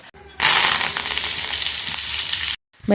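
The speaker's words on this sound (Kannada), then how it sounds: "ಒಂದು ಪಾತ್ರೆ ಒಳಗೆ ಎಣ್ಣೆ ಕಾದ್ಮೇಲೆ ಸಾಸಿವೆ, ಜೀರಿಗೆ ಮತ್ತು ಕರಿಬೇವು" Mustard seeds, cumin and curry leaves hit hot oil in a pan for a tempering, bursting into a loud, dense crackling sizzle that runs steadily for about two seconds before stopping abruptly.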